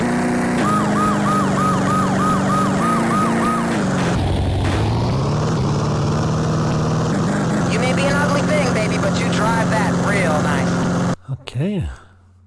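Electronic siren from the Game Boy Advance game Smuggler's Run, loud and continuous with a rapidly warbling wail that later changes pitch and sweeps, ending in a brief burst of other game sounds.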